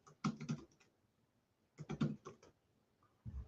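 Quick bursts of typing on a computer keyboard, two short clusters of key clicks close to the mic with a brief pause between, then a few final taps.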